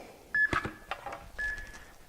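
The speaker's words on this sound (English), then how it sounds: "I'm going to start my timer" A workout timer gives short electronic beeps as it starts, two clear tones a second apart amid light handling clatter in a gym setting.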